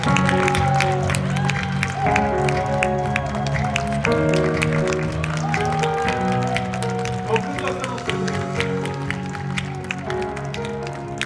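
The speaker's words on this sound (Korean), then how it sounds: "큰 박수 한번 부탁드리겠습니다" An audience claps at the 2022 Paju village community festival, a steady patter of applause running under loud, sustained background music.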